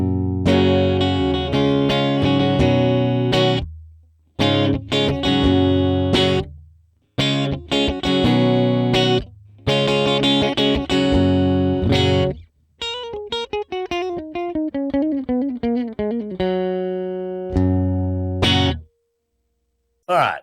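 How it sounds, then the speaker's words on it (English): Electric guitar through a Valeton GP-100 modeling a clean Fender Bassman amp with no effects, bright strummed chords and single-note runs in bursts separated by short pauses, up close, with brief speech in between. "And this is the sound of the Bassman, clean, with no effects on it."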